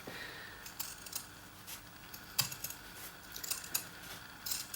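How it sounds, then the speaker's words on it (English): Scissors trimming excess fabric from the seams of a sewn placemat, a series of quiet, crisp snips at irregular intervals, close by, with no talking. "So I'm just trimming down all the excess bulk from those seams"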